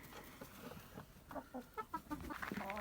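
A Minorca hen clucks inside a chicken coop, a run of short, close clucks that quicken and rise into a drawn-out call toward the end, fairly faint overall.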